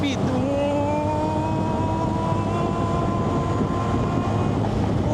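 A Yamaha Fazzio scooter runs at full throttle near top speed, its engine holding a steady, droning whine with wind rush on the road, while a rider talks over it.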